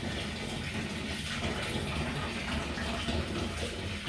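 Boiled kettle water poured into a home brew fermenter for a St Peters Golden Ale kit, a continuous gushing splash that holds steady at a moderate level for the whole stretch.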